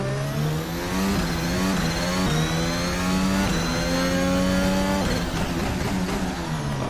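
Car engine revving steadily in a VR racing game, a loud continuous drone whose pitch climbs and drops with each gear change and throttle lift, heard alone without talk.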